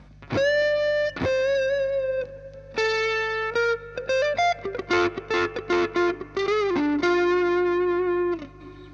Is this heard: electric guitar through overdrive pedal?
yes